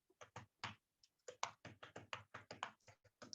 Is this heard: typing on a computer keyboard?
yes